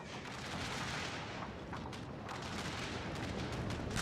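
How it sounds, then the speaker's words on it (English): Artillery fire in a Civil War battle video game set at Franklin, 1864: dense, rumbling booms and crackling distant gunfire roll continuously at a moderate level, with several sharper reports toward the end. "Got some good vantage points here, firing with our artillery."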